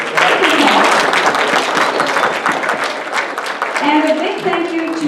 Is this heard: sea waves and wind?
no